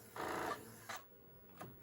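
An HP-85 computer's built-in printer mechanism whirs and rasps in short bursts: one longer run, then two brief ones, close and fairly quiet.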